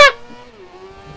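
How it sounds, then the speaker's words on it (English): An F1000 open-wheel race car engine in the racing video game GRID 2019 gives a sharp burst at the start, then settles into a smooth, sustained engine drone that shifts slightly in pitch. "Listen to that engine just to purr."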